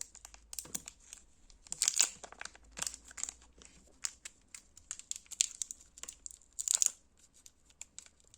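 A Torku milk chocolate wafer wrapper is torn and crinkled open up close, a series of sharp, irregular plastic rips and rustles in a quiet room.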